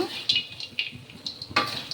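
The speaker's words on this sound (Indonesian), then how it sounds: "Dan saya menggaul ataupun mengaduk hingga semua rata." Dry potato, anchovy and peanut sambal is stirred in a pan over an open flame, with light scraping and clinking of a utensil against the pan in short irregular strokes, faint sizzling beneath, close and moderately quiet.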